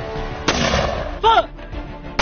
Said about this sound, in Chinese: 一班60迫击炮射击首发命中， 一发冲天